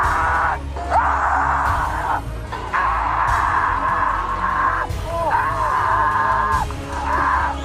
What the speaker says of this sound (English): Nothing theatrical about that yell.